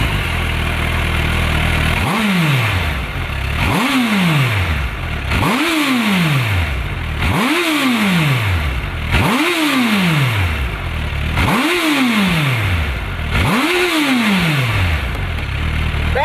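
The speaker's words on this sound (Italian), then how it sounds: "visto che il 4 cilindri è caldo, cosa ne dite di sentire un po' la sua voce?" Suzuki Hayabusa four-cylinder engine revved hard seven times in a steady rhythm, each blip rising sharply and falling back toward a loud idle, close and alone with no talking.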